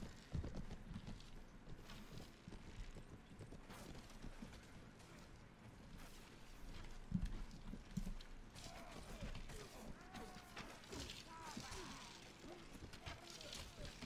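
Horses gallop across a battlefield in the video game Mount & Blade, a steady rumble of hoofbeats layered with clashing mechanical game noise, continuous and fairly close throughout.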